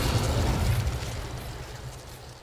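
An Incendio fire spell bursts in Hogwarts Legacy, a loud low whooshing blast that starts at full strength and fades away over a couple of seconds, with no voices.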